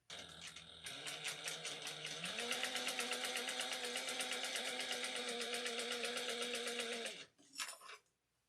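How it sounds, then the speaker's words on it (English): A sewing machine topstitches a gusset on a commuter tote bag, one steady close run of rapid stitching that speeds up after a second and holds for about six seconds before stopping, followed by brief handling noise. "then we're going to top stitch at 1/8 of an inch"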